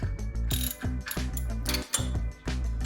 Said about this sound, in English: So we have to tighten the bracket here.